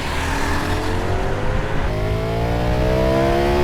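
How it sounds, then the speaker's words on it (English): Audi RS car in a drag race against a Ducati, accelerating hard from about 50 km/h with boost engaged, a loud close engine roar whose pitch climbs steadily through the gear, with no talking. "I'm going to accelerate, then press boost"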